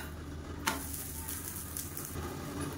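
Green gram (pachai payaru) adai batter sizzles steadily in a pan just after being flipped, a soft continuous frying hiss with a small clink near the start.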